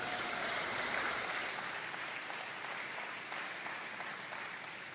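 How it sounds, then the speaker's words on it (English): A crowd applauds steadily, a dense wash of clapping hands that holds strong throughout and tapers only slightly toward the end. "That sounds like an applause line to me"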